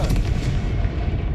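The Confringo blasting spell going off in the Hogwarts Legacy video game, a heavy booming blast with a deep rumbling tail, loud and close with no voices.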